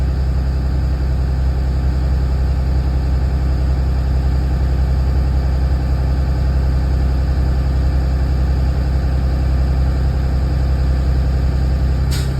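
A bus engine runs at high idle, giving a loud, constant low drone with a steady mechanical hum that does not change for over twelve seconds. A faint click comes right at the end.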